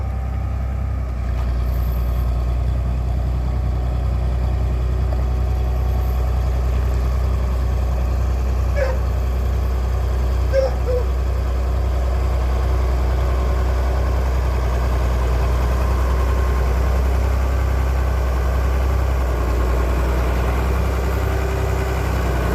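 A vehicle engine idles steadily as it pulls under a shed, a low continuous rumble with faint clinks, loud and close, no voices.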